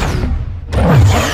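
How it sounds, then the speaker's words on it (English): A missile launching in a combat video game, a loud close roaring rush that dips briefly and then surges back into a sustained blast. "That's a rocket."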